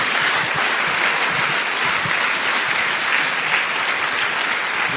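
Congregation in a church clapping together in a dense, sustained round of applause that stays even and loud throughout, with no pauses.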